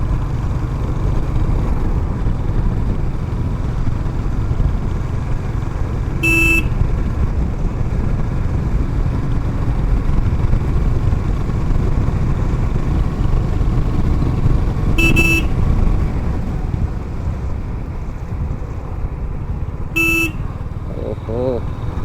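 Motorcycle riding along a road in traffic, with a steady engine and road roar throughout and three short horn toots from passing vehicles spread across the ride.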